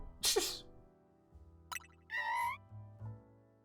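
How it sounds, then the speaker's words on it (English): A single loud sneeze bursts out near the start, followed by scattered faint vocal sounds and short tonal electronic blips in an otherwise quiet room. "wouldn't be a stream if I didn't sneeze within the first 5 minutes"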